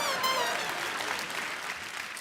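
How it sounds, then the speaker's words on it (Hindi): Studio audience applause on a Hindi comedy talk show, a steady dense wash of clapping that holds loud for the whole stretch with a slight fade toward the end. "इनके लिए जोरदार तालियां हो जाए।"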